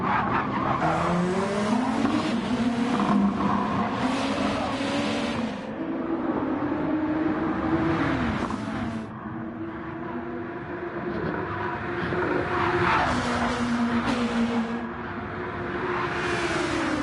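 Race cars running side by side at Spa in a sim racing game, engine notes rising and falling continuously with some tire squeal, loud and close throughout with no talk.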